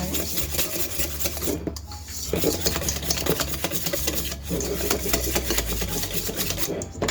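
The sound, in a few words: whisking butter and vanilla for snickerdoodle dough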